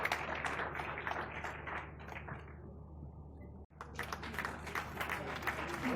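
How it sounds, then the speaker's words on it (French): A conference audience applauds in a large hall, a dense wash of many hands clapping that fades, cuts out briefly, then resumes strongly at moderate distance. "Tous vos applaudissements"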